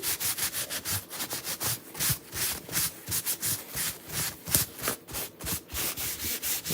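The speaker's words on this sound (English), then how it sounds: "If it feels waxy still, then keep buffing it." Buffing a waxed painted surface smooth before chalk work, heard as quick rhythmic rubbing strokes, close and dry, repeating back and forth in steady pulses with no talk.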